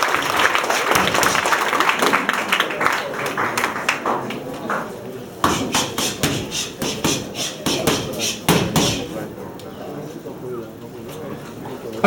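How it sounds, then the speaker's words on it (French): An audience at a martial arts demonstration claps for the competitors in bursts of scattered applause, while someone speaks over it on a microphone. "Allez, on peut les applaudir,"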